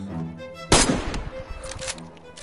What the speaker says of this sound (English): I don't see where you're shooting at.